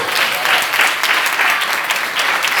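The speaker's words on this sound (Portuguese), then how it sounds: "Dá para aplaudir Jesus por causa disso?" A church congregation applauds during a sermon, a loud, dense burst of clapping from a crowd, steady and close throughout.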